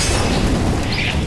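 A grenade blast in the shooter game CS:GO, a dense, loud rumbling boom that fills the short moment with broadband roar and low-end weight, with no voices over it.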